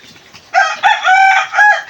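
A rooster crows loudly and close by, a long strained call with clucking chickens faintly in the background.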